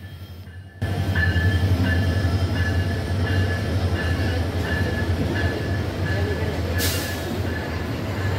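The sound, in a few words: Kurigram Express train entering Natore railway station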